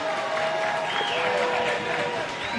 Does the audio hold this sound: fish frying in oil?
no